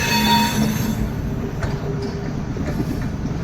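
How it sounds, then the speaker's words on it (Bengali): The Malda–Howrah Intercity Express rolling into Howrah station, a loud close rumble of wheels and carriages with a high wheel squeal at first and faint clicks over the rails. "সামনে নুন এক্সপ্রেস আর এখানে ইন্টারসিটি এক্সপ্রেস একসাথে হাওড়া স্টেশন এন্টার করছে"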